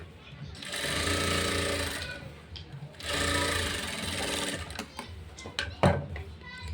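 A sewing machine runs two close, whirring bursts of stitching along a blouse sleeve seam, each about a second and a half long, followed by a few clicks and knocks as the fabric is handled.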